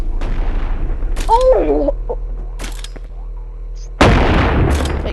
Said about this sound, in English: Shotgun, shotgun, shotgun.